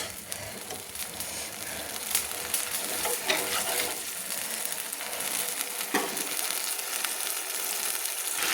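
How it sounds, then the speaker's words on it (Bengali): Spice paste for a fish curry with yam, with water added, sautéed in a pan: a steady close hiss and sizzle runs throughout, with occasional stirring scrapes and no voices. "যেহেতু আমি জল অ্যাড করেছি সেহেতু আর একটু মশলাটা কষিয়ে নিচ্ছি।"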